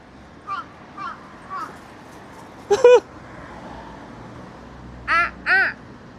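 Crow calling on a street in the Sakae entertainment and shopping district of Nagoya, with three short caws followed by a louder, harsher burst of calls and then two more strong caws, heard over faint street ambience.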